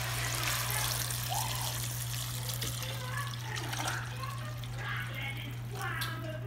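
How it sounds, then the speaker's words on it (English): Water pours steadily into a pot of beans and chorizo in a home kitchen, a soft continuous trickle over a low hum, with people talking faintly nearby. "And we're gonna add water."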